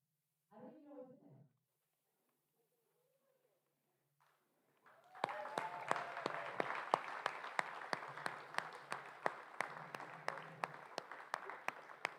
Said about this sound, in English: You got your applause